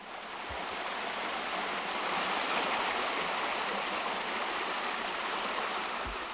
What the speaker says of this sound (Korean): 99에 넘는 골짜기가 사시사철 끊임없이 맑은 시냇물이 계속 흐르고 있는 곳입니다